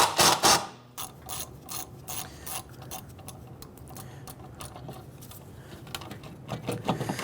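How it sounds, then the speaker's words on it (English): Rapid ratchet clicks in bursts as an 8mm socket loosens an ABS sensor bolt on a 1999-2004 Jeep Grand Cherokee rear brake assembly, close and crisp, pausing between runs of clicking. "Using an 8mm socket, let's go ahead and remove the bolt holding the ABS."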